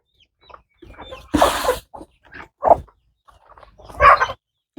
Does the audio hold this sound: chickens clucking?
yes